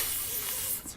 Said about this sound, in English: I'm so tempted to just spray myself in the face.